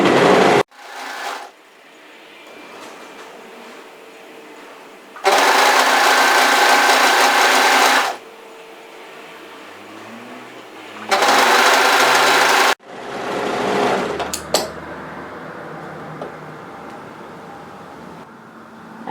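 A sewing machine stitches knit sweater seams from the hem upward, running in several loud bursts with quieter pauses between them and no talking.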